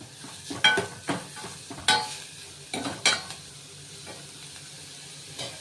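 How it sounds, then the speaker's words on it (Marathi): Onion frying in oil in a pan over medium heat, stirred with a spoon: several distinct scraping and sizzling bursts of stirring over a soft, steady sizzle, fairly close and moderately loud. "तेलामध्ये कांदा चांगला हलवून घ्यायचा।"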